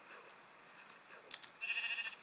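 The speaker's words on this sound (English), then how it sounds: "sheep's actually under the ice" In Minecraft, a sheep trapped under freezing ice gives a single bleat near the end, preceded by a couple of faint clicks over a quiet backdrop.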